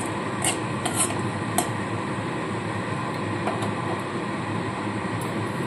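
Whole garam masala crackles in hot oil while being stirred, a dense, loud, continuous sizzle close by, with a few brief scraping clicks near the start.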